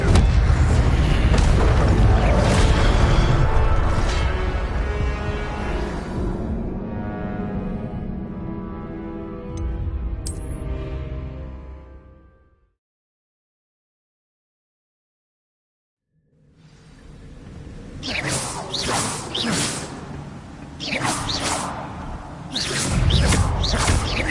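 A spell cast in the video game Hogwarts Legacy: loud booming blasts and whooshes roll on for about twelve seconds, fall to a brief silence, then return with sharp bursts.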